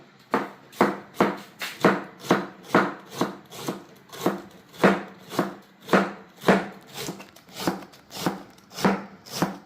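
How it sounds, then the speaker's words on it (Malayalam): A knife chops through cabbage on a board for a Kerala thoran, around twenty crisp, evenly spaced chops close by with no talking. "നമുക്കിതൊന്ന് പെട്ടെന്ന് കട്ട് ചെയ്തിട്ട് ഒരു തോരൻ ഉണ്ടാക്കാം"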